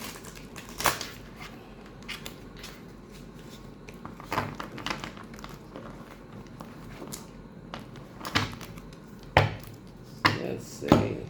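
A tarot deck is shuffled by hand in scattered, soft bursts of card riffling and tapping, quiet and close, separated by pauses with faint room noise.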